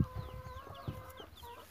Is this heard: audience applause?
no